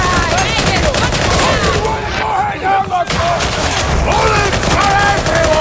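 Sustained bursts of gunfire in Warhammer 40,000: Darktide, loud and dense throughout with chattering shots and booming impacts, briefly dipping midway before resuming under a busy game soundscape.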